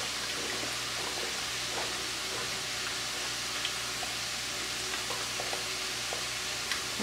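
A spoon stirs a creamy cream cheese white sauce in a pan over a medium-low burner, giving a steady soft bubbling hiss with faint intermittent scrapes, close and continuous.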